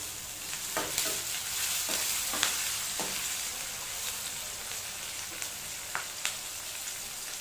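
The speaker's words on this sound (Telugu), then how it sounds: "కొద్దిగా కరివేపాకు యాడ్ చేస్తున్నాం" Curry leaves hit a hot pan of frying tomato, giving a soft continuous sizzle with a few sharp pops and crackles scattered throughout, close and fairly quiet.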